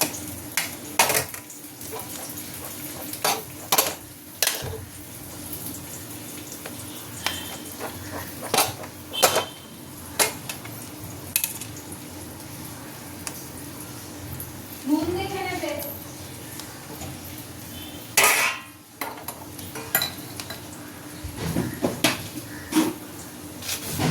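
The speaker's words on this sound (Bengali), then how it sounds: "এখানে ডিম, এখানে চিংড়ি মাছ, এখানে মাংস, সব আমি এক এক করে দিয়ে দেবো। দিয়ে মেশাতে থাকবো।" A spatula stirs and scrapes rice, egg, prawns and meat around a frying pan, with a faint sizzle and repeated metallic clatter near the microphone while someone talks over it throughout.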